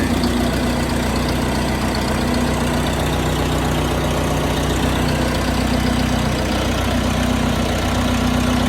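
A backhoe's diesel engine idles steadily just after being started following a long winter, giving a continuous low rumble with a slight knocking chug at close range and no voices.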